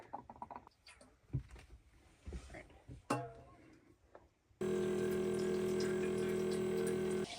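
Warm water gushes steadily from a tap into a sink in a small truck camper kitchen after a stretch of soft kitchen clatter and movement, the flow loud and constant until the end.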